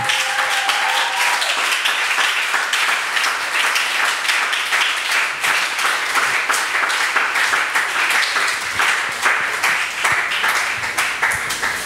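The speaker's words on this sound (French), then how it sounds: "est-ce qu'on peut acclamer pour Jésus le sujet d'adoration?" Many worshippers in a church clap and applaud for Jesus, a thick, continuous roar of hands that stays loud and steady for the whole stretch without letting up.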